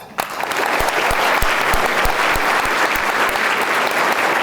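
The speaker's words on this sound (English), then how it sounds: "Let's give all these amazing leaders another round of applause." Sustained audience applause fills an awards-ceremony hall, a dense steady wash of many hands clapping with a few sharper individual claps standing out, loud and continuous from start to finish.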